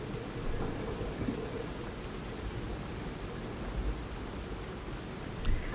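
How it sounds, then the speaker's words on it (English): Rain and thunder in a video game: a steady wash of rainfall fills the scene with low thunder rumbles underneath, one deeper swell near the end, and no voices. "I love rain in real life, and I love rain in games."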